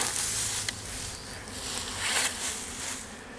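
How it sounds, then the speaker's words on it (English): Honey bees buzz in a hive being opened and checked after a split, a steady dense drone that fills the whole stretch with no one speaking. "There's some bees in there."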